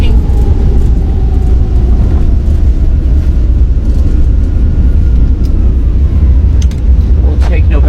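Fenix A321 in a flight simulator decelerating on landing with reverse thrust, a loud, steady low engine roar with a slowly falling whine, heard continuously under talking.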